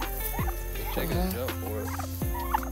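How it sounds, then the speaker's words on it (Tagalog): Turkeys gobble repeatedly in rapid, warbling bursts on a farm, close and loud over a steady background hum. "Look at the turkey."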